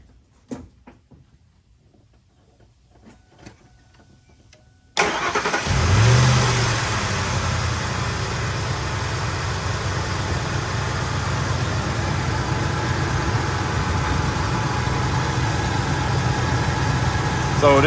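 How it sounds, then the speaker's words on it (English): A 2001 Ford Expedition SUV engine cranks and catches with a loud roar after a few seconds of quiet clicks, then settles into a steady, rumbling idle heard close up for the rest of the clip. "I'm gonna start the SUV up."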